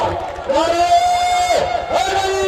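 Crowd at an outdoor village volleyball match cheering and shouting together, a loud sustained roar of voices with rising calls, whistling tones and a steady rhythmic thump beneath.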